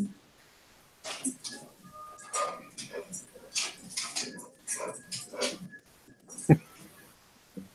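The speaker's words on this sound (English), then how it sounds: "I can hear the dog." A Labrador dog whimpers and yips softly in the background while people talk over it, with one sharp bark-like burst near the end.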